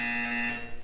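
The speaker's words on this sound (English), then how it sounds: "When you hear the buzzer, look down at the floor" A Portal 2 test-chamber buzzer sounds as one steady, loud electronic tone that holds for most of a second, then fades.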